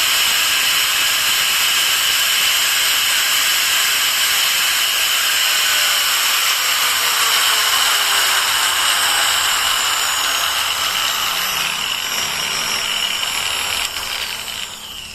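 A Total variable-speed angle grinder, model TG109125565, runs at speed setting 6 drawing about 417 watts. It gives a loud, steady high-pitched whine with an airy hiss, sustained for about fifteen seconds and easing slightly at the end.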